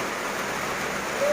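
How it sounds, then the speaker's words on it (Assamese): Steady rain falling continuously in a broad, even hiss with no breaks, fairly loud throughout and a little louder toward the end. "আজি চাগে যাব নোৱাৰিম, যি বৰষুণ দিছে"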